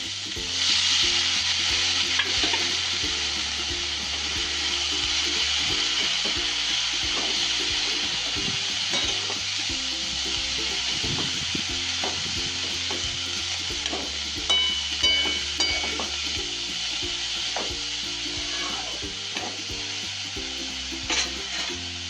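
Cauliflower frying in a pan for a dry cauliflower bhaji, a loud, steady close sizzle running throughout with occasional stirring scrapes and knocks, no voices.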